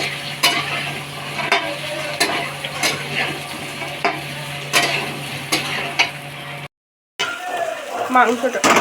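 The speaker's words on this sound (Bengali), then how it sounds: "অন্য একটা কড়াইতে আলুগুলোকে ভালোভাবে ভেজে নিচ্ছি" Potatoes frying in oil in a separate pan for a chicken dish, steady sizzling with repeated scraping stirs of a spatula, and a voice talking over parts of it.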